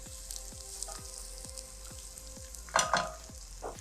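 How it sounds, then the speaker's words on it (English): Iru, fermented locust beans, fries with onions in a pan, giving a soft steady sizzle with regular light stirring scrapes and a brief louder clatter near the end. "we're going to cook this with the onions for about 1 or 2 minutes"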